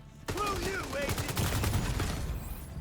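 Bursts of video game gunfire from an agent shooter, dense and fairly loud, running continuously over a busy mix with game voice lines and tonal effects layered on top.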